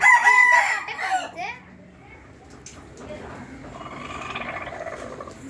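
A country rooster crows loudly up close, followed by a softer stretch of country chickens clucking and murmuring in the background on a small farm.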